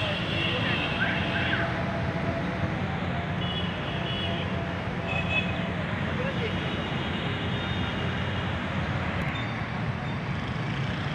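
Steady roadway traffic noise from the road behind a small park in Kashmir, a continuous broad low rumble of passing vehicles that persists evenly throughout.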